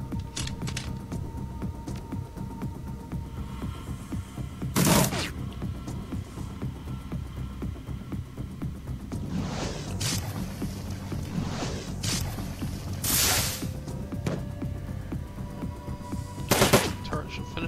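Turret gunfire in the video game Shadowrun: Dragonfall, heard as a few sharp bursts spread over a steady low game background, with one at the start, a cluster in the middle and one near the end.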